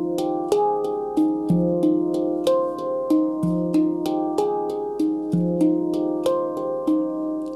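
A handpan rings out a simple sequence of single struck notes stepping through a scale, each metallic tone sustaining and overlapping the next at a steady, unhurried pace, close and clear with no talking.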